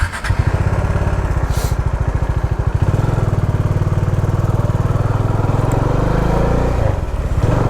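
A motorcycle engine runs steadily as riding begins, a loud close putter with a throaty low pulse that rises slightly partway through and holds constant.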